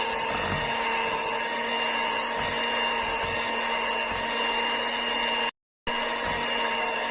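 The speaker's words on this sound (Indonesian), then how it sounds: "Lalu kita matikan mixernya." An electric hand mixer beats choux pastry dough as eggs are added a little at a time, giving a steady, close whirring drone with faint rhythmic bumps, cut by a brief dropout near the end.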